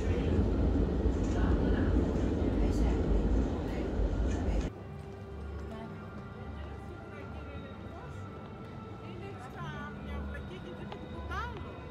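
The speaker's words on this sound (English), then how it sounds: "So we are going into Republica subway station." A loud rushing rumble of a subway train at Milan's Repubblica station fills the first few seconds, then drops to quieter station ambience with distant squeals and murmuring voices.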